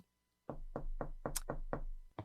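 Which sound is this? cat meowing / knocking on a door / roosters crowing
knocking on a door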